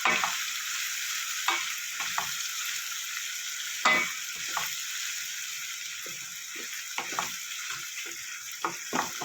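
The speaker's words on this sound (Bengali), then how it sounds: "এবার আমি আদা রসুনের পেস্টটা দিয়ে দেবো।" Ginger-garlic paste stirred into fried onions in a pan makes a bright, constant sizzle close by, punctuated by regular scraping strokes of the spatula.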